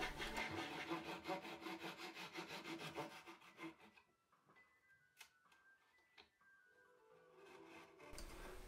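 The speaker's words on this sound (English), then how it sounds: "Mark the excess strip lengths running past station number 11 and trim with a saw." A hand saw trims excess wooden strip lengths on a Laughing Loon baidarka kayak frame: steady, close rhythmic rasping strokes for several seconds, then a few light wooden ticks and taps before a final scrape.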